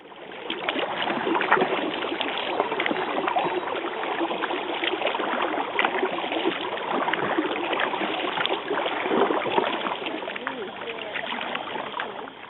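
Paddlers stroke their boats along Wolli Creek past Waterworth Park, giving a continuous wash of water splashes and trickling under steady, moderately loud ambience, with faint voices in the background.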